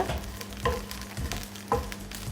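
Grated coconut roasting in a dry pan for kozhukattai, with a soft crackling sizzle broken by a few rhythmic scrapes of stirring about once a second.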